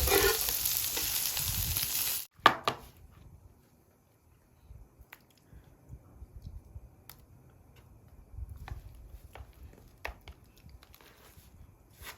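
Food sizzles loudly in a pan while Korean Lunar New Year (Seollal) dishes are cooked. A sharp clack follows as the piece is turned, then a faint sizzle with scattered clicks and taps continues.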